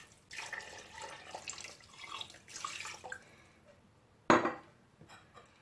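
Water runs from a tap and splashes into a pot for steaming chicken, a steady close trickle for several seconds that stops, followed by one sharp clank of the pot near the end.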